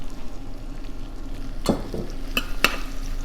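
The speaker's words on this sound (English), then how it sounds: "So we're going to saute them until they get a little bit soft" Carrots, celery and onions sautéing in rendered bacon fat for corn chowder, a soft continuous sizzle broken by a few sharp utensil clanks and stirring scrapes against the pot.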